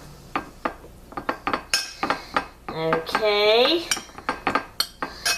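Mayonnaise being stirred into food with a utensil, heard as a run of close metallic clinks and scrapes against a dish in a steady rhythm, with a brief ringing tone partway through and a single short spoken word.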